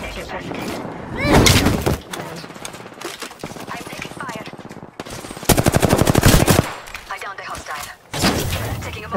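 Rapid bursts of automatic gunfire and single shots crackle through an Apex Legends Arenas match, loud and close, alternating with breaks while a player talks throughout.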